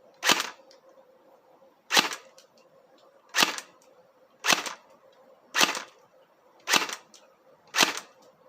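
A cheap airsoft AK-47 fires single shots through a chronograph, seven sharp snapping cracks spaced about a second apart, loud and close, with a faint hum between shots and no talking.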